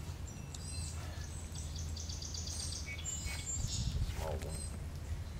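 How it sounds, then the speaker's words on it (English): A young bird chirps in short high bursts, faint and a little distant, over a low steady background hum outdoors where a raccoon is eating. "a kid bird."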